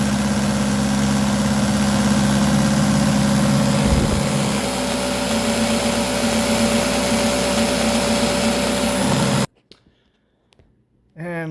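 A Eureka Optima 431BX vacuum cleaner runs during an airflow test with a loud, steady motor whine and rushing air. The pitch shifts briefly midway, then the machine cuts off abruptly near the end, leaving near silence before a faint sound returns.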